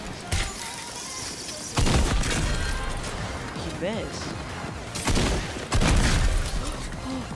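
Gunfire in the video game Close Encounters comes in several loud, sharp bursts, one at the start and others near the middle and end, mixed with game effects and background noise.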